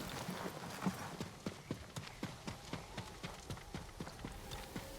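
Horse hooves plodding at a steady walking rhythm in a video game set among woods near a lake and temple grounds, evenly spaced soft thuds over a quiet background.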